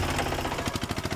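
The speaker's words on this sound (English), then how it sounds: "auto rickshaw." A small auto rickshaw engine runs with a fast, rough, pulsing putter that stays steady and fairly close for about a second.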